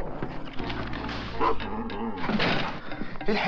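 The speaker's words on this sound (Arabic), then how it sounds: "ايه الحيوان ده؟ ده شكله كلب." A dog whimpers and yips in short, high bursts close by, with a few whiny cries over a quiet background.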